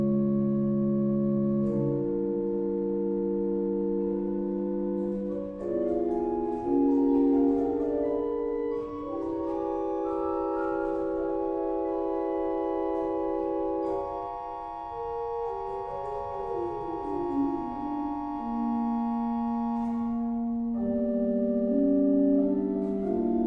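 A Hildebrandt organ's Flöte douce 4-foot flute stop, made of oak, plays a soft, pure chordal passage with sustained, slowly shifting notes, gentle and unaccompanied by speech.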